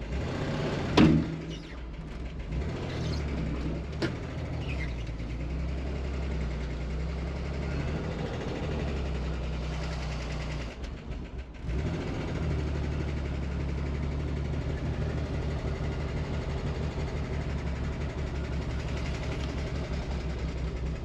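The engine of a damaged classic car idles in a steady, low, close drone that dips briefly midway, with a few faint knocks early on.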